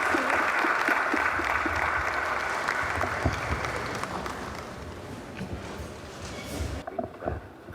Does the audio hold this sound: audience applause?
yes